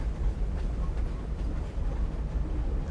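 A train rumbles along in a western film scene, a heavy low continuous rolling drone with faint rhythmic clatter, steady and close without speech.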